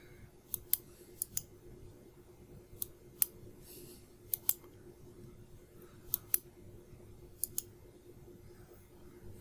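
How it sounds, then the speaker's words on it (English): Computer mouse buttons clicked left and right while playing a grid-based game, sharp isolated clicks coming singly and in quick pairs, close and crisp over a quiet room hum, with no talk. "Left click, right click, copy the end of row."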